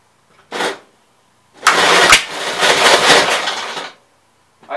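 A 1957 Gravely walk-behind tractor engine being cranked, with a short burst followed by a longer loud stretch of rough sputtering and turning over, up close and alone.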